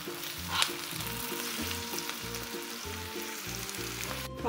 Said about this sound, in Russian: Все это пережариваем.